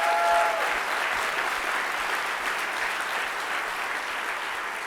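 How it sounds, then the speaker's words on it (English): A live debate audience claps in sustained, even applause that holds at a steady level and tapers only slightly toward the end. "Please give them a round of applause."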